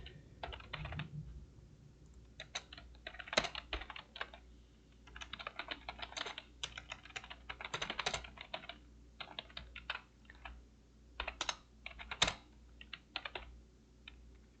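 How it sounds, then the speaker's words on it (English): Computer keyboard keys clack in irregular bursts, nearby and fairly quiet, as code is typed during a live programming session. "I should probably type in a message real quick"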